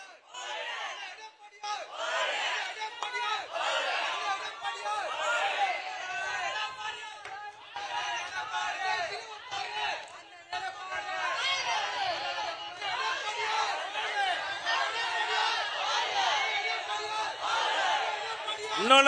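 A crowd at a political rally shouts and cheers in a continuous dense roar of many voices, loud and sustained throughout with bursts of louder yelling.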